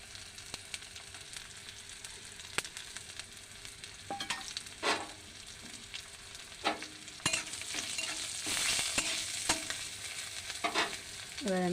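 Nigella seeds temper in hot oil, a quiet steady sizzle with scattered clinks and scraping stirs that grow busier and louder toward the end.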